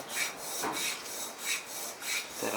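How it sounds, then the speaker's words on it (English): A washer is drawn along the spine of a steel knife blade to scribe a radius line, giving rhythmic rasping scrapes, about five strokes close up and fairly quiet, with no talking. "I take the washer and I place it on the top of the spine of the knife"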